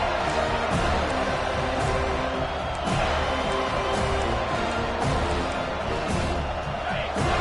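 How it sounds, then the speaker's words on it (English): A home crowd in a Madden football video game keeps up a dense, steady roar of cheering, loud and unbroken for several seconds with a slight swell partway through. "Here comes this home crowd as the defense tries to get off the field on 3rd down."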